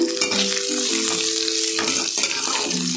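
Garlic and onion fry in a pan for Odia-style kanji, a loud continuous sizzle with scraping stir sounds and faint tonal hums running under it.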